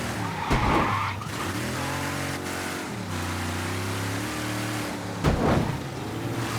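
A car in Mafia III skids with long, wavering tire squeals over a steady engine drone, loud and close, with brief sharper bursts near the start and end.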